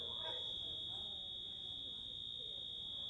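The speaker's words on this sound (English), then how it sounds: "Somebody let off the alarm for a fire." A fire alarm sounds at Safety Harbor Resort as a steady, piercing high-pitched tone that holds without a break for the whole span, with faint voices underneath.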